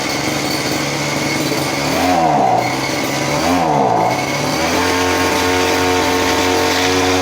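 A Husqvarna grass cutter's small two-stroke engine runs just after a blade change, loud and close, revving up and down twice in rising and falling whines before settling to a steady high drone.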